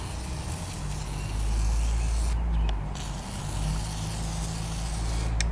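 Short aerosol bursts spray onto an old, worn bicycle as its pedals are cranked, two brief hissing puffs over a low, steady rumble.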